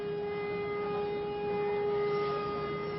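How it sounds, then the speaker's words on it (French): A town siren in Vilvoorde wails in a steady, sustained tone, heard from a distance with a faint background murmur and no talk. "Quand la sirène a retenti ce matin à 11 h"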